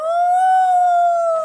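A puppy gives a single sustained howl, clear and close, rising slightly and then holding steady for about a second and a half.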